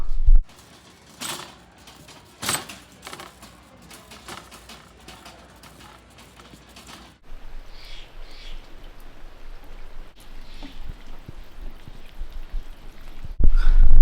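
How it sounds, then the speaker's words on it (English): Steady rain patters and hisses outdoors in Oregon, with a few sharp knocks and clatters early on, growing to a denser, continuous downpour in the second half. "The rain is back in Oregon"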